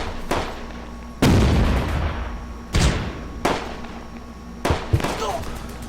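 Gunfire from a WWII tactical battle in the video game Close Combat: a Churchill MK2 and troops firing on an anti-tank gun, heard as five sharp bursts with booming tails spaced over several seconds.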